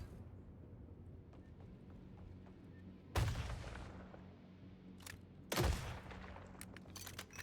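Two heavy grenade-launcher blasts from Killing Floor 3, each a sharp loud boom with a trailing rumble, a couple of seconds apart over a quiet low game hum, with faint clicks and smaller pops near the end.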